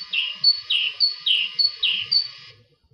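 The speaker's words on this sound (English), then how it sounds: "Here's that low song again." A rural songbird repeats a short, low-pitched phrase about five times in steady rhythm, clear and alone over quiet background, the country version of the song.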